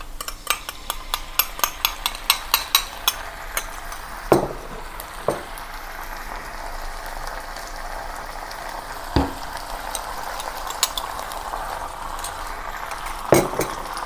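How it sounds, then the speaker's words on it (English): Sauce with ginger and garlic bubbling and sizzling in a pan as it comes to a boil, a steady soft crackle broken by occasional sharp clinks of a utensil against the pan. "And bring it to a boil."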